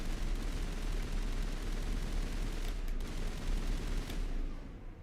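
Sustained video-game gunfire in Mass Effect as enemies are shot: a continuous, dense roar of rapid shots with a brief sharper burst near the end.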